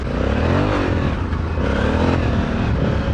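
A Honda Africa Twin big adventure motorcycle rides off-road, its engine droning and revving steadily with loose clatter and scraping from the terrain, close and continuous without talk.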